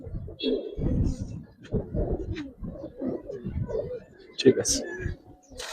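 Giribaz racing pigeons coo softly in short bursts close by, mixed with brief chirps, while people talk over them throughout.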